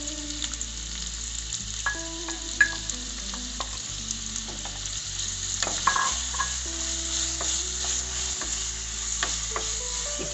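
Onion pieces frying in hot oil in a pan, a steady soft sizzle with occasional stirring scrapes and light clinks, fairly faint and continuous throughout.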